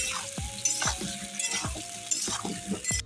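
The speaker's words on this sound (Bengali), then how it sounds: "আলুটা তো বেশ ভালো করে ভাজছি" Potatoes fry with a steady sizzle in a pan, broken by regular scraping stirs and light clinks of the spatula every half second or so, close and with no voices.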